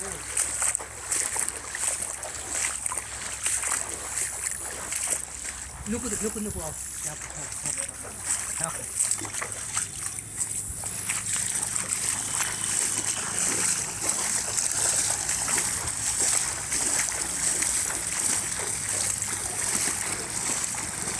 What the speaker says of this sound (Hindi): हाँ लगातार पानी आ रहा है देखो